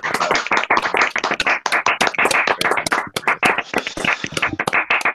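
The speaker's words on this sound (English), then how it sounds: "Just give me a little bit of clap." Loud, close clapping from a small group, sharp individual claps in a quick, uneven rhythm that keeps going for several seconds with only brief gaps.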